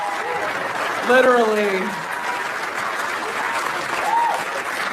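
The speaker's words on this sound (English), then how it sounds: "Mark Norman, please clap for him." A stand-up comedy crowd applauds comedian Mark Norman, with loud clapping swelling and holding while a voice speaks briefly over it and scattered cheers rise near the peak.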